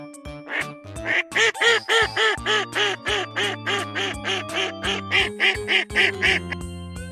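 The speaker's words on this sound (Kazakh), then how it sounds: "Үйрек." A domestic duck quacks in a rapid, rhythmic run of loud, close, raspy calls, about a dozen and a half in steady succession.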